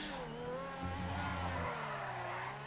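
A De Tomaso P7 sports car engine in GTA 5 Online drones steadily with a synthetic, game-like tone, holding a high rev with slight pitch shifts and no talking.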